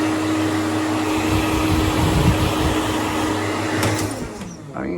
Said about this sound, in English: We have one of those absolutely appalling plastic hair dryers.